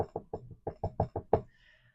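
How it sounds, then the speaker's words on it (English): Light knocking on a bedroom door: eight soft, evenly spaced raps over about a second and a half, close and clear with no voices, then quiet. "tapped lightly on her door"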